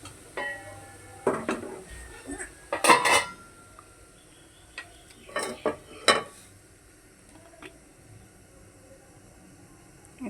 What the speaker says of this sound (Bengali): আমি এখানে ফ্রাই প্যানটা বসিয়ে দিব।